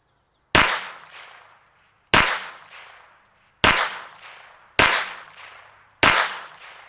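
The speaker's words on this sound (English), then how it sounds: "I'm going to shoot at that top left target" Five sharp rifle shots, fired through a Monstrum Marksman 1x20 prism scope at a target, each a loud crack with a short decaying tail, spaced about one to one and a half seconds apart with quiet between.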